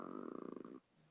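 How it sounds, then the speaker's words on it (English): A dog snores softly close by, one drawn-out rasping breath with a buzzing, pulsing texture that fades into quiet, fairly faint overall. "Why the hell does my dog snore all of a sudden?"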